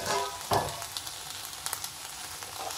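Brinjal frying in a pan over a medium flame gives a steady, close sizzle and crackle, with a sharp stirring scrape near the start and small pops scattered throughout.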